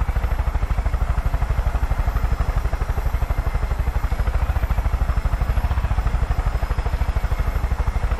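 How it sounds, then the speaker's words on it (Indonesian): A helicopter in the video game Far Cry 5 flies close by, its rotor chopping in a fast, even rhythm over a steady engine whine that holds for the whole stretch. "Tuh, helikopter, guys."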